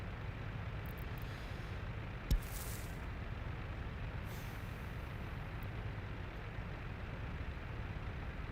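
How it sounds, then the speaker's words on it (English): Truck engines hum steadily in a city-building game, a low continuous drone. Occasional hissing bursts like air brakes and a single sharp click rise briefly above it, all at moderate, even loudness. "There's so many truck sounds going on."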